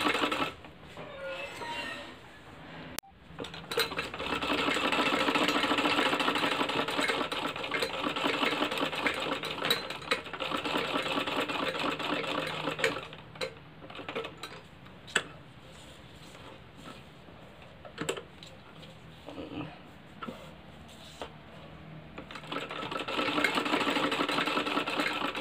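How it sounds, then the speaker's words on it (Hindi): A sewing machine runs in long continuous bursts, stitching along the edge of a kurti, with short pauses and small clicks between runs; the motor whirs steadily and close. "किनारे किनारे सिलाई लगाते जाएंगे।"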